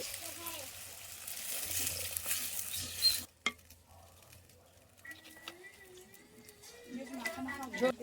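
Spices sizzle and crackle in a hot pan, then the hiss sharply changes as water is poured in for a catla fish curry, followed by quieter bubbling under a voice.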